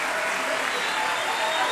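A concert audience at a bluegrass show claps steadily, a dense, continuous wash of applause filling the room with no pauses.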